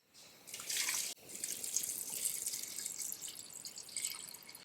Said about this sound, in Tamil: கோதுமைக்கு நல்லா கோதுமை முங்குற அளவுக்கு நல்ல தண்ணி ஊற்றி நம்ம அரைக்கணும்